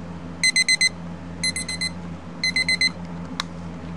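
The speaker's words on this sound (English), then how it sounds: "The alarm is just, you know, your typical cheap." A cheap novelty train-shaped alarm clock rings: three separate bursts of rapid, shrill electronic beeps, four pulses each, close and clear over a low steady hum.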